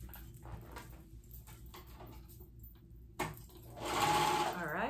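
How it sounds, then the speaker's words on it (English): A sewing machine runs close by, stitching around a pant leg seam for paperbag pants, a steady whirring hum that swells louder toward the end, with faint background noise. "now we're gonna sew all the way around that seam, all the way around to put those two together"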